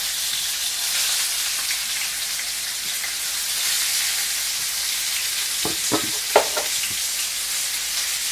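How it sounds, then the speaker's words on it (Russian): Pork neck with fatty layers frying in a pan, giving a steady close, dense sizzle and crackle throughout, with a few sharper spatters and clinks near the end. "Звук жарки мяса очень приятный."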